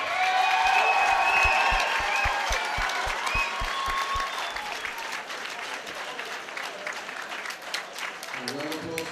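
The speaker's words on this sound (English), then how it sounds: "And round applause for the runner-up, Dunsmore." Crowd applause and some cheering ring out after a fight at a stadium combat event, a dense wash of clapping sustained throughout, with a ring announcer's amplified voice over the top.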